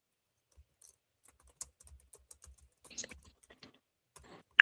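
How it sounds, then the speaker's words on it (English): Keyboard typing in sparse, irregular bursts of clicks and taps, fairly quiet and close, with a denser flurry near the end and a sharp final click. "Typing up your warrant, man."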